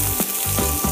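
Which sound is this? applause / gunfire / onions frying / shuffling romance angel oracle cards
onions frying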